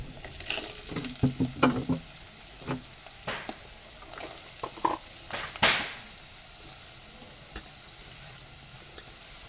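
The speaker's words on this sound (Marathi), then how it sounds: "आता मी ढवळून घेतो" Garlic cloves, turmeric and finely chopped onion frying in a pan, with steady sizzling broken by a series of scraping stirs and spoon knocks, close and moderately loud, no talking.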